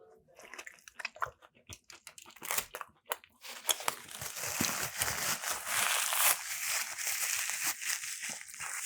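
Crunchy bites into a hot, crispy, well-seasoned sandwich, a run of sharp close crackles and chews that thickens into steady crinkling and munching toward the end, with no talk.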